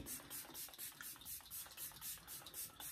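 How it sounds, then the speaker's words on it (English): Repeated short bursts of fine spray hiss, pumped in a quick steady rhythm, close and fairly loud with no talking. "So I'm just going to spray this on my face."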